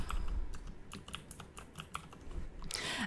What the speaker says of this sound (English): Put in my email address. Make a password.